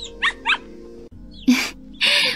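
Small dog barking, two quick high yips followed by two louder, harsher barks, close by over a steady low hum.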